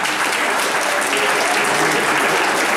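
Audience in a saloon venue applauding a singer after a song, dense continuous clapping from a mid-sized crowd that holds steady and loud throughout.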